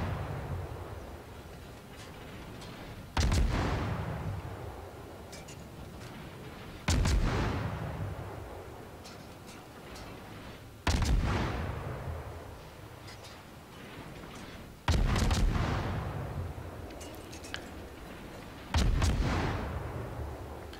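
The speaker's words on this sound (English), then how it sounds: "Sitting in smoke, firing your guns." An American Tier 7 destroyer's guns firing in World of Warships, five loud booming salvos spaced about four seconds apart, each decaying into a long rumbling tail over steady ambient noise.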